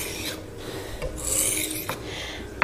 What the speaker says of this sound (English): You should see a little bit of filing, and then we just bring it back the opposite direction.